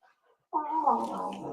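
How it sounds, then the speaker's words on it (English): Puppies nearby break into whiny, high-pitched whimpering cries after a brief near-silence, the sound then holding on continuously at close range. "we are being serenaded by the puppies over here"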